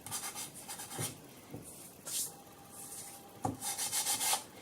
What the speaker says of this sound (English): you can just rub away the excess layer of talcum powder that you can see over the top